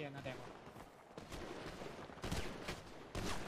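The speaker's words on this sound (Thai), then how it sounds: "ยิงปืนข้างหลังยิงปืนข้างหลัง" Bursts of video game gunfire crackle through an online shooter match, broken into several loud clusters of shots with voices calling out in the background.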